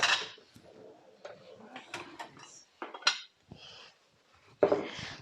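Plates, pots and cutlery clatter and clink in uneven bursts as a kitchen dishwasher is unloaded, with brief pauses between handfuls and one sharp clash near the end.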